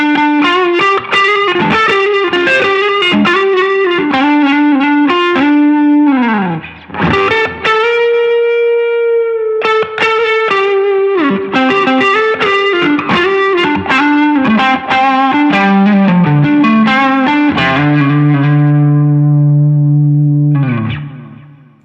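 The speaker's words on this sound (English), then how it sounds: "Halfway through this next lick, I also kick on the UA Galaxy Tape Echo because it's just awesome." Electric guitar plays a lead lick through a Klon overdrive, with a UA Galaxy Tape Echo switched on partway: a loud, sustained, distorted tone of bends and held notes, trailing echo repeats, ending on a low chord.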